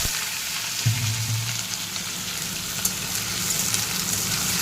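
Hot oil sizzles steadily in a kadai (wok) for a vegetarian dish, a close, continuous crackling hiss with a brief stronger burst near the start.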